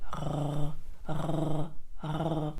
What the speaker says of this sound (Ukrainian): Так, ніби ми полощимо горло без води.